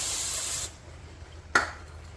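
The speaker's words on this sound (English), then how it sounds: "Just a little bit of brake parts cleaner." Brake parts cleaner sprays from an aerosol can onto brake caliper slide pins in one loud, steady hiss lasting under a second, then stops. A short sharp click or puff follows after a quiet gap.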